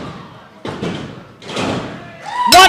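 Wrestler slammed onto the canvas by a Willie bomb at a wrestling event, a couple of heavy thuds amid crowd noise and commentary, ending in a sharp impact.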